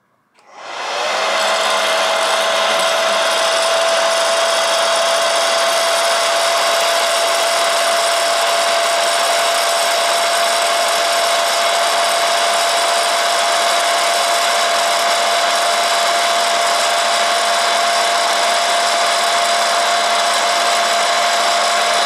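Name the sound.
mini popcorn machine running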